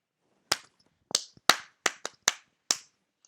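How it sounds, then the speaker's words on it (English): A few people clapping during a class, seven sharp separate claps spaced unevenly across a few seconds, close and crisp against silence. "Let's clap our hands for Zainab that helped us to finish that"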